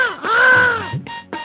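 A thirsty cartoon crow caws, probably voiced by a performer: one long, drawn-out, wavering call followed by two short, clipped caws, close and loud, with no talking.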